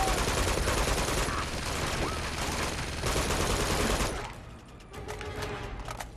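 Dense, continuous gunfire in the video game Uncharted 2: loud sustained bursts for about four seconds, then quieter scattered shots and game noise.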